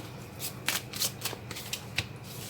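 A deck of tarot cards is riffled and shuffled close by, a series of crisp flutters and slaps over a faint steady background.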